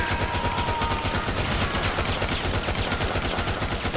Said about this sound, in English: The beauty of sharing ammo with a light machine gun.